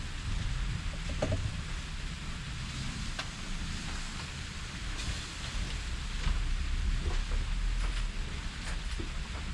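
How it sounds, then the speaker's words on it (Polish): Steady light rain with scattered drips and patters, a soft continuous wash of noise with no voices. "Już kapie, kurde."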